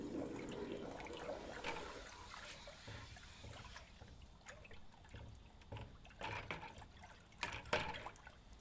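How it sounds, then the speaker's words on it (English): A hot case-hardened steel part for a clamp knurling tool is plunged and swirled in water, giving faint sloshing, bubbling and crackling bursts in a quiet workshop. "I'm going to get it right in the water and swirl it around"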